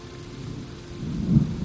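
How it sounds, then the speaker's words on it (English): Steady rain hiss with a low rumble of thunder swelling toward the end, fairly close and moderately loud, in the video game Season: A Letter to the Future. "I like the sound of the rain and the thunder."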